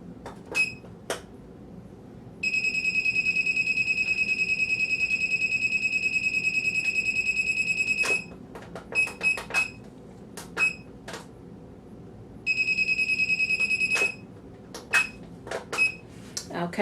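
Electronic beeping from a heat press timer: two long steady runs of high tonal beeps, separated and followed by scattered short sharp beeps, close and loud over a quiet room.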